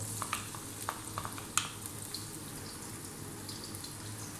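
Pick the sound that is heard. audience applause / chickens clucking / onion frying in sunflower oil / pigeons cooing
onion frying in sunflower oil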